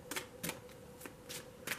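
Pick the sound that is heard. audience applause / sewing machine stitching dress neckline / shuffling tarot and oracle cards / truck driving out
shuffling tarot and oracle cards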